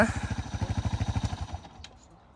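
A Honda Dio AF-34 carbureted scooter engine idling close by with a fast even putter that fades out after about a second and a half, while a voice speaks.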